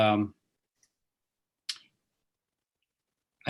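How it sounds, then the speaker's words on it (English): A single computer mouse button click, short and sharp, sits in near silence between bits of talking during an online gallery talk. "I accidentally clicked the wrong button"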